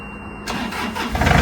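An 18-ton wood chipper engine that has sat unused for a long time cranks and catches at about half a second, then runs steadily and grows louder, close by with no talk.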